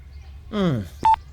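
A brief voice sound is followed by a single short electronic beep from a landline telephone keypad.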